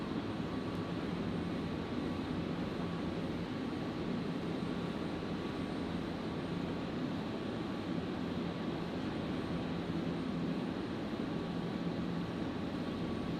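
A Qantas Boeing 737-800 arriving from Melbourne onto runway 01 right at Brisbane Airport, heard as a steady, continuous broadband jet roar that holds level throughout, with no voices.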